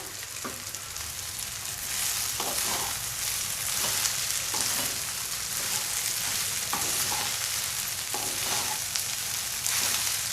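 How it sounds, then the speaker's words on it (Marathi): Rice for chicken fried rice is stir-fried in a hot pan, giving a steady, loud sizzle throughout, with faint scraping stirs now and then and no talking. "आपण हा भात असा परतून घेऊया"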